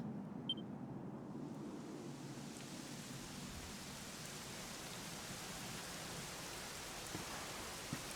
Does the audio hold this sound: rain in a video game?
yes